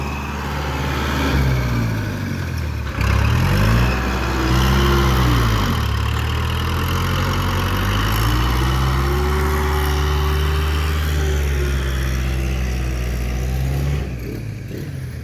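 A tractor engine labors while stuck in thick, sticky mud, a loud steady drone with rising and falling revs as it strains, continuous and close throughout with no talking.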